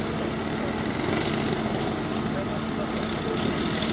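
A propeller aircraft taxis on full back throttle at an air show, giving a steady, loud, droning engine roar throughout.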